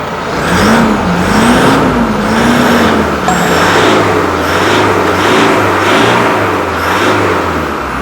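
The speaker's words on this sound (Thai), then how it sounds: "เสียงเครื่องโอเค" A used 2013 Toyota Fortuner 3.0 V 4WD with a manual gearbox runs its engine nearby, with a loud droning hum whose pitch rises and falls in gentle revs throughout.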